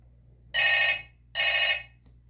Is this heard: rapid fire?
no